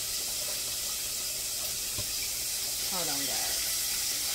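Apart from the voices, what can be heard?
water running in a sink while cleaning fish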